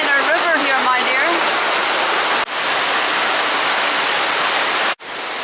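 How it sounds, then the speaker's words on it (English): Torrential downpour in remote Tanzania, about two inches in half an hour, roaring loud and continuous close by, with faint voices early on and two short dips in the wash of sound. "Within about half an hour, we get about 2 inches of rain."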